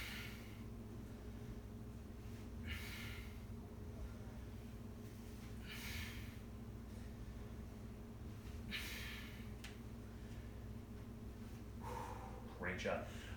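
Heavy, forceful exhales during an ab crunch exercise come as about four bursts spaced a few seconds apart. They sit faintly over a low background hum, with a short noisy burst at the very end.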